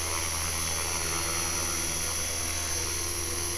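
An HK-450 RC helicopter with a rebuilt rotor head flies close by, giving a steady, loud, high-pitched whine and buzzing hum that holds constant throughout, with no talking over it.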